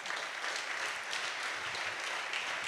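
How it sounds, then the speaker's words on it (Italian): Applause at an anniversary celebration for the 46th Air Brigade in Pisa, a crowd clapping steadily for a few seconds, sustained and even but somewhat distant and soft. "Un grande applauso."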